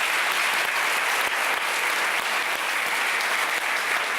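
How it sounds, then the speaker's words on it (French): Sustained, dense applause from a large studio audience welcoming brothers Ilan and Maurice Zawi on a French television variety show, loud and steady throughout with no break. "Je vous demande d'applaudir Ilan et Maurice Zawi."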